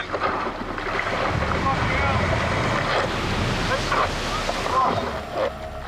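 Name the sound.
big ocean waves and surf at Bondi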